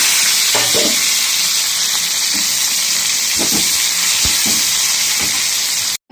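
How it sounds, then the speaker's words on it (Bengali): Onions frying in oil in a pan for chicken biryani, a steady close sizzling hiss throughout, with a few soft clinks and scrapes of a utensil, ending abruptly. "তার জন্য পেঁয়াজটা দিয়ে ভেজে নেব।"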